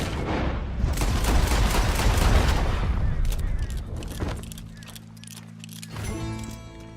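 Gunfire crackles in Red Dead Redemption 2: a loud, rapid burst of overlapping shots for about three seconds, then fading into quieter game ambience with a sustained musical tone.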